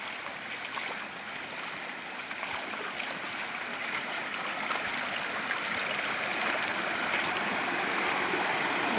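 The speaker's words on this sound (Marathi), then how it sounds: "बंधारा कसा ओरफ्लो होऊन वाहतोय बघा" A continuous rushing wash of water pouring over a small overflowing dam during monsoon rain in Konkan, broad and steady, growing slightly louder toward the end with no voices.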